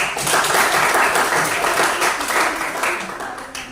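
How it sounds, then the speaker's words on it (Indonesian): A classroom of students applauds a presenting group, steady clapping from many hands filling the room for several seconds, fairly loud and close, slowly thinning toward the end. "silakan kasih aplaus dulu untuk teman kalian."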